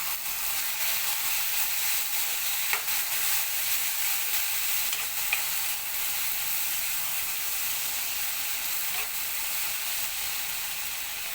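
Spiced brinjal and chana dal curry cooks in a pan with a steady close sizzle and hiss, punctuated by a few faint scraping taps as it is stirred.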